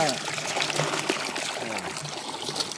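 Water trickles and pours steadily after a valve is opened on a solar-powered groundwater pump system, a close, continuous flow with a voice talking over it.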